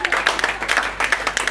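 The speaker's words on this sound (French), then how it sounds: "On va applaudir pour lui." An audience claps for a writer at a World Book Day celebration, a lively burst of distinct, rhythmic hand claps close by, sharp and fairly loud throughout.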